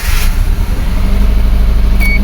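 2004 Subaru Forester engine with a misfire and low power running loud and close, a rough, throbbing low rumble with an uneven pulsing beat.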